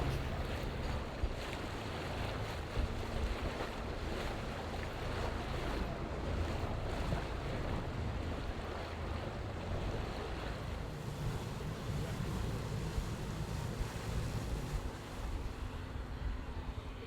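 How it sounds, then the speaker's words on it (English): Ferry crossing the River Dart to Dartmouth, with steady broadband rush of water and wind against the boat, a continuous dense wash with faint engine hum underneath and no voices. "I'm going to hop on board the ferry to take the short journey across the River Dart"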